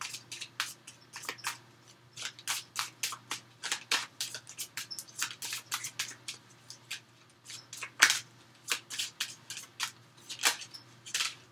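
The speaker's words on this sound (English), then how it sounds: "I'll pull some oracle cards for you guys." Oracle cards being shuffled and pulled, a quick run of soft papery flicks and slaps repeating close by, with no talking.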